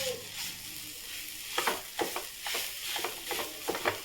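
Chopped vegetables and two grated boiled potatoes sizzle and fry in a pan for a street-style veg roll, with a spatula scraping and stirring in a quick, repeated rhythm.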